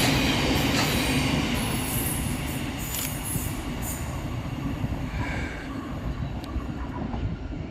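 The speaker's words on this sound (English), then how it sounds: "Passing next through the station is 700 151, working 9 Sierra 41 for Govia Thameslink from Cambridge to Brighton." A Govia Thameslink Class 700 train runs through Preston Park station without stopping, producing a loud, close, sustained rumble and roar of wheels on rail with faint squeals, fading slightly toward the end.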